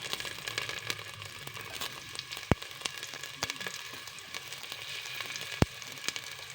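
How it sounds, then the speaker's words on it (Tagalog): Pork and whole garlic sautéing in cooking oil for a chicken pork adobo, a steady close sizzle and crackle with a few sharp utensil knocks against the pan, no voices. "I'm putting cooking oil because the pork is lean. I'm going to saute it."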